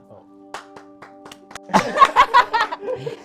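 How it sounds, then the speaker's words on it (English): A few people clap in a room after a mock vow renewal, sparse claps building into a short burst mixed with chuckles and talking. "now you guys can clap"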